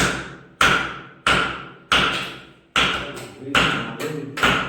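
Loose clay roof tiles, come away from their cement, are struck by hand in a series of about seven sharp knocks, each a close hollow thump with a short clattering ring, with no speech.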